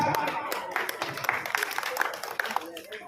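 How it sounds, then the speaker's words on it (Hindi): Loud applause from a political rally audience, dense clapping running the whole time with a busy crowd wash and a voice over it. "जनाब हाजी अब्दुल हकीम साहब जोरदार तालियों के साथ"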